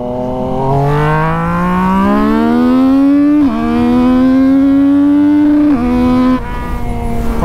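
A Yamaha MT-09 or Kawasaki Z900 motorcycle engine revs hard and near, its pitch climbing steadily through the gears with short dips at each of two or three shifts before easing off.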